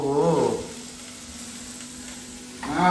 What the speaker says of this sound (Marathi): अरे कोलंबी तवा फ्राय चालू आहे.